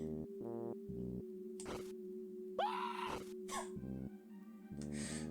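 A character's scream rings out in the Deltarune video game, a short rising cry in the middle of the clip, set between blippy dialogue tones and a steady musical drone.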